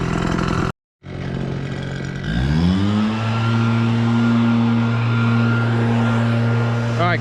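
A leaf blower runs steadily close by while debris is blown off a truck at the end of a long work day, its whine rising as it spools up and then holding a constant drone.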